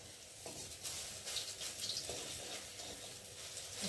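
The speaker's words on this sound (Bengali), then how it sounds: "ঝোলের বড়া তো হালকা করে ভাজতে হবে।" Lentil fritters (bora) frying in a very hot wok give a steady, close sizzle and hiss that runs through the whole stretch with no talk over it.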